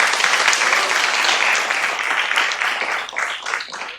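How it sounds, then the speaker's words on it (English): An audience at a university science café event gives a sustained round of applause for a speaker, a thick continuous clatter of many hands that holds steady before tapering slightly near the end. "Let's give another round of applause for Cynthia."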